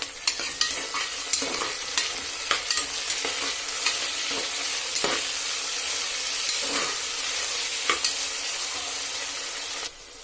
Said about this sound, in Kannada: ಒಂದು ಟೊಮೊಟೊ ಹಣ್ಣನ್ನು ಇದಕ್ಕೆ ಸೇರಿಸ್ಕೊಂಡು ಚೆನ್ನಾಗಿ ಬೇಯಿಸ್ಕೊಡಿ